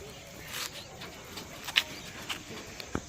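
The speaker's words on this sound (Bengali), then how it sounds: "পায়রাগুলো শুধু শখের জন্য আছে" Pigeons in a home loft give soft, low cooing calls, faint and intermittent over a quiet background hum with a few small knocks.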